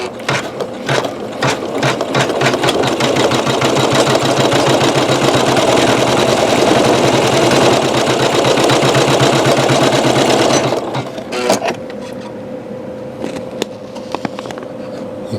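Janome MC9900 embroidery machine stitching metallic thread that is shredding, a loud, close, steady rapid mechanical whir for about eleven seconds, then stopping into quieter clicks and rattles.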